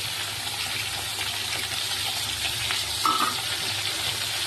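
Onions drop into a pan where pointed gourd and potatoes are frying, keeping up a constant close sizzle with faint stirring scrapes and a slight swell of hissing midway.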